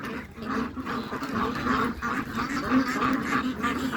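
Several ducks quack in repeated nasal bursts, a busy chorus of overlapping calls at close range that continues throughout.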